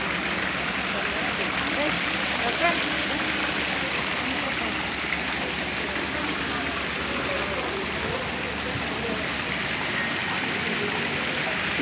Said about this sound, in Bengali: এই ঝর্ণা